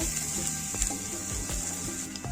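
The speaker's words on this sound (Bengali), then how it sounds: "পেঁয়াজটাকে অল্প একটু ভেজে নেব।" Chopped onion fries in a pan for a Bengali rui fish tail dish, giving a steady, close sizzle with small crackles and soft stirring scrapes throughout, no voices.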